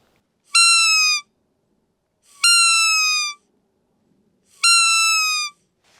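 Three evenly spaced, loud, whistly bleats from a blown deer call imitating a fawn in distress, each about two-thirds of a second with a falling pitch, separated by quiet pauses.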